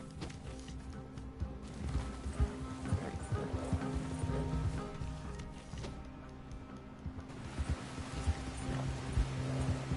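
Horse hooves clip-clop in the Red Dead Online video game, a steady run of low thudding footfalls, close and continuous, with a faint tonal drone behind them and no talk.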